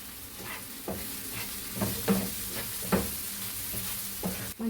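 Small onions and green chillies sauté in oil in a pan for boneless chicken curry. A soft steady sizzle runs under repeated scraping stir strokes.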